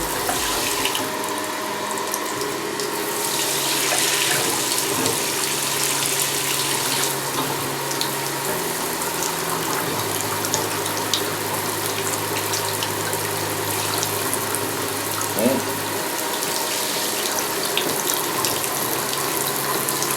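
Water draining steadily down an unclogged bathtub drain, a continuous close rushing and gurgling flow with faint hum underneath, no talking.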